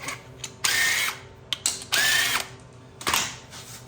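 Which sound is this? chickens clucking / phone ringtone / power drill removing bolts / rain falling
power drill removing bolts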